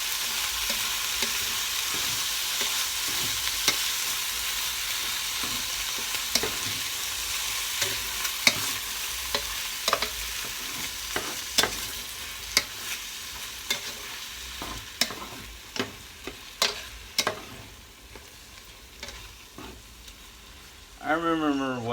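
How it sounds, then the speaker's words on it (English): Chili mac mixture stirred into frying meat in a pan, a continuous hiss of sizzling with regular scraping knocks of the spoon, close and steady, a voice briefly heard at the very end. "Now we just stir this in with the meat."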